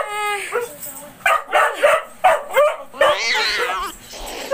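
A dog gives a rapid series of loud yelping barks nearby, starting with a whining howl and then settling into a rhythmic run of short barks with brief gaps.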